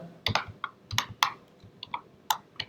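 Typing on a computer keyboard while coding in Python, irregular bursts of close, crisp key clicks with short pauses between groups of strokes.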